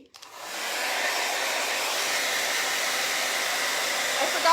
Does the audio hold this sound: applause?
no